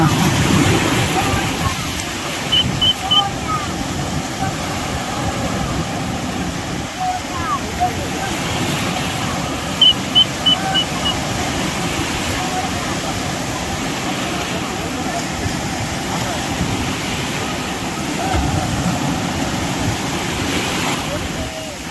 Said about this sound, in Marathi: लाटा बघा कशा बापरे